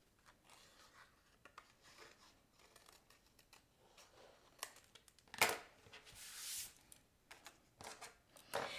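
Soft snips and rustles of scissors cutting around paper cloud shapes, irregular and quiet, with a louder crinkle of paper partway through.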